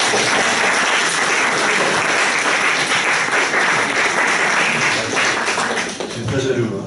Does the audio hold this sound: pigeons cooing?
no